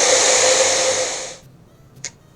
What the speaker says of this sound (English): These things are usually actually pretty easy to peel off even without the hairdryer, but since I've got it with me